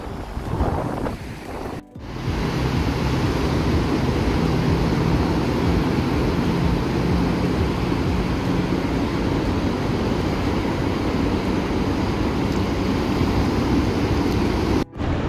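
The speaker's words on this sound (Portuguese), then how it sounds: "Tá ventando pra caramba" Strong wind roars continuously against the microphone with a deep, buffeting rumble, surf faintly mixed in, steady and loud throughout, at Enseada beach in Guarujá, Brazil.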